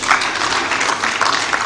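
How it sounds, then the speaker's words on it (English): Brief burst of audience clapping at the opening of an international housing show in Abuja, steady and moderately loud across a large crowd, with no voices over it. "Can we give His Excellency another round of applause?"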